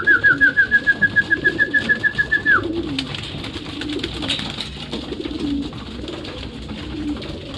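Racing pigeons in a loft: a rapid trill of repeated notes runs for a couple of seconds and then stops, leaving a busy murmur of low cooing and shuffling, fairly close.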